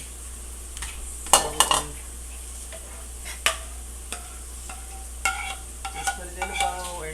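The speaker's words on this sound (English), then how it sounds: "I'm gonna put this in a bowl" Cooked refried beans are scooped from a pot into a bowl for taco salad, with scattered metallic spoon scrapes and sharp clinks against cookware over a low background hum; a voice speaks briefly.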